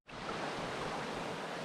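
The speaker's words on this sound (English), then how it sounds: "I can hear some rapids up here." Rushing creek rapids and a waterfall at Camp Creek in Linville Gorge, a steady broad roar of churning water heard close and loud throughout, with no voices over it.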